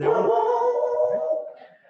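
Dogs howling and whimpering indoors in a room during a conversation, one drawn-out close howl that tails off, with no speech over it.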